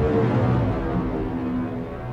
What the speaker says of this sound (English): For this example, I'm using the BX Oberhausen preset Vulcan Hoover.